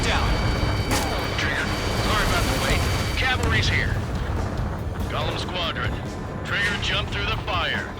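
A ground target explodes in the Ace Combat 7 video game: a heavy, continuous roaring rumble, with radio-style voices speaking over it.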